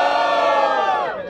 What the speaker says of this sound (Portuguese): Os caras estão gritando assim.